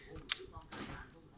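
A film camera's shutter fires on the bulb setting, giving a crisp close mechanical click and then softer clicks a moment later as it closes, over faint room noise.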